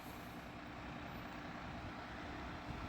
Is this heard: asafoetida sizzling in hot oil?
no